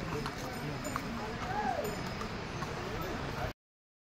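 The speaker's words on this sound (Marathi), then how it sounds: "खूप सारे जण घोड्यानीच प्रवास करतात" Horses' hooves clip-clop along a busy mountain pilgrimage trail to Yamunotri in Uttarakhand, a steady patter of steps amid broad crowd and trail noise, with no one speaking.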